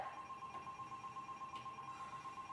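A telephone rings faintly in a quiet room during a stage play, a thin steady electronic tone with a soft pulsing rhythm and no voices.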